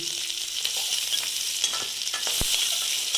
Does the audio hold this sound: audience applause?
no